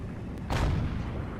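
A single deep, heavy boom of tank cannon or artillery fire in the video game World of Tanks, with a StuG among the shooters. It hits over a steady rumble of battle ambience and dies away slowly.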